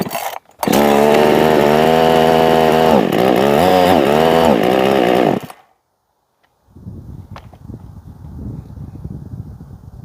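Rebuilt Husqvarna 55 chainsaw fitted with a Chinese cylinder kit, running loud and close with a steady then wavering high rev for about five seconds, cutting out abruptly, followed by quiet, rough low rumbling.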